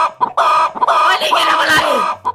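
Minecraft chicken clucking in bursts, loud and close, a few repeated squawky calls with short gaps, no talk over it.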